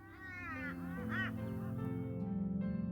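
Birds honk and squawk after being fed alfalfa sprouts in the adventure game Shardlight. Several nasal, wavering calls sound close over a steady low drone, with no talking.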